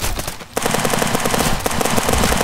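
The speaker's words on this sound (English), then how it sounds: "Did someone shoot?" Rapid automatic gunfire from a tactical first-person shooter game, a loud close burst of rhythmic shots after a brief lull, continuing for about two seconds.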